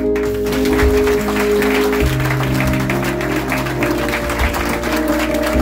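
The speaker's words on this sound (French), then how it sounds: "Que ma voix rejoigne les applaudissements de l'église pour honorer de tels participants." Church congregation applauding during a Sunday service in Pétionville, a steady wash of clapping running throughout over sustained keyboard or organ tones.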